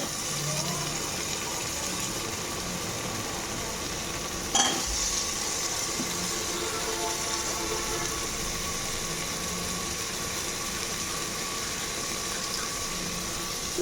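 Washed potatoes for aloo matar sabzi sizzle as they fry in a pan, a steady close hiss throughout with one brief clank partway through, and no talking.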